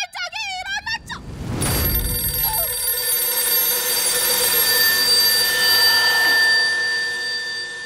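Telephone bell ringing on stage during a play, a sustained electronic ring with steady tones lasting several seconds, loud and close, after a brief voice at the start.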